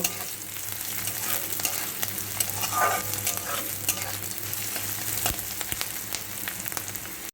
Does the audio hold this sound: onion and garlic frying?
yes